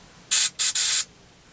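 An airbrush fitted with a small silicone piece sprays three sharp, loud bursts of hissing air, two short and one longer, close to the microphone, with silence before and after.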